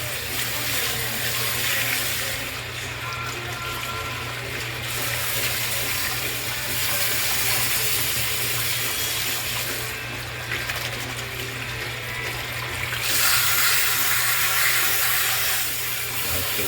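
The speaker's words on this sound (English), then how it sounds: "we'll just stick this darn heat exchanger in the washer. Wash it right out." Continuous hiss of running hot water from a tap spraying onto a sooty Bosch tankless water heater heat exchanger, steady and close, with a low mechanical hum underneath.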